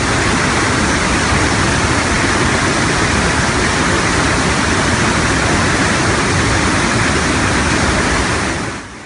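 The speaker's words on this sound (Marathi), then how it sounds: "ते धरण आज ओसंडून वाहतंय." Water overflowing from a large reservoir dam in Marathwada makes a loud, unbroken roar that fills the whole span, easing slightly at the very end.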